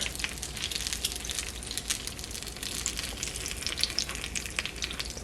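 Funnel cake batter fries in used oil, giving a close, continuous crackling sizzle with dense little pops throughout and no voices.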